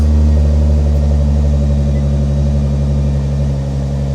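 The engine of a crash-repaired Nissan GT-R idles steadily with a deep, droning rumble and humming tones. It sounds close and loud, holding constant throughout with no talking.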